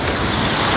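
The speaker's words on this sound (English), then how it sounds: "These waves coming up on me." Loud, broadband surf washes in at a Florida beach, a continuous close roar of breaking ocean waves with wind buffeting the microphone.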